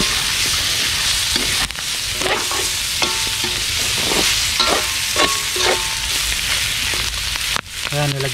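Onion and garlic sauté in hot oil in an outdoor pan for spicy adobo, a loud continuous sizzle with frequent spatula scrapes and stirring knocks close by, no voices.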